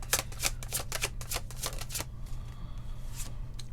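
Tarot cards shuffled in quick riffling bursts, a rapid series of crisp close flutters and snaps for the first half, then quieter soft slides and taps as cards are laid on a table.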